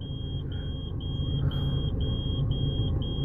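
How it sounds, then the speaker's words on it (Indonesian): A Toyota Etios parking sensor beeps while reversing, with a steady train of short, evenly spaced high beeps over a low engine rumble inside the cabin. "Ini udah ada sensor parkirnya ya."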